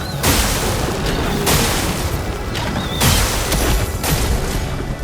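Sack Attack Explosion skill in the video game Clair Obscur: Expedition 33, a series of loud booming blasts and crashes in rapid succession over a dense, noisy battle mix.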